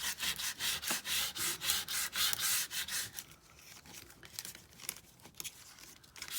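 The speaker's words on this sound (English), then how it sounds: "I'm going to take most of this shininess off because I do not want this to look new at all." Sandpaper rubs back and forth over a field journal in a quick, regular rhythm of close scratchy strokes, then slows into a few lighter, irregular scrapes and rustles.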